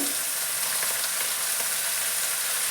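Cleaned sorrel leaves go into a pan of fried tomatoes while making a tangy chutney, and a loud, steady, dense sizzle of frying fills the whole moment without any voices.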